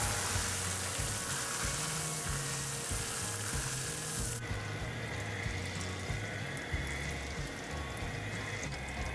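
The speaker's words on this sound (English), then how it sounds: "You can see all the sugar has melted and it's starting to bubble." Sugar melts and bubbles in a pan for caramel, a dense, steady sizzling hiss heard up close with no talking, easing noticeably about halfway through.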